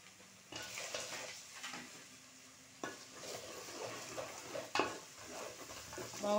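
Green chilli paste frying in a pan for a Rayalaseema bagara rice dish, a steady close sizzle broken by stirring scrapes and clinks of a spoon against the pan, with no talk.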